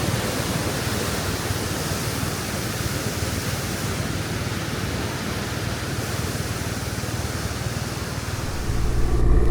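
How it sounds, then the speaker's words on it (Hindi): A swollen mountain river in Kashmir rushes at high pressure, a loud, continuous broadband roar of churning water that holds steady and swells louder at the very end. "यहाँ से बहुत प्रेशर है, पानी जा रहा है बहुत प्रेशर में।"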